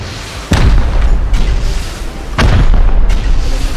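Rocket launcher explosions during a base raid in the video game Rust: two loud, deep booms about two seconds apart, each followed by a lingering rumble.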